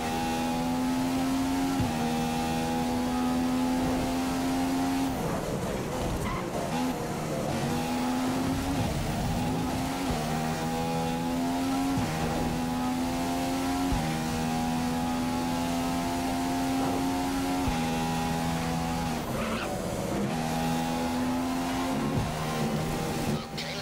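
A Formula 1 car engine in the F1 2015 video game at Albert Park drones loud and steady throughout, its pitch rising and dropping through repeated upshifts and downshifts.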